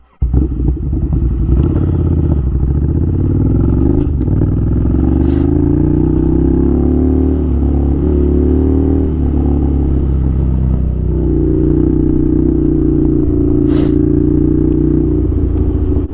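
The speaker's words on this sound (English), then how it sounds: "I like dual sport motorcycles, because I can go off-road whenever I feel to" Ducati Scrambler dual sport motorcycle riding along, a loud, steady engine drone with shifting pitch as it changes speed, heard close from the rider's position with wind noise and no talk.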